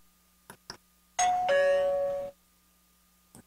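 A doorbell camera chime rings out clearly indoors, a bright two-tone ding-dong with a lingering ring, preceded and followed by a few faint clicks.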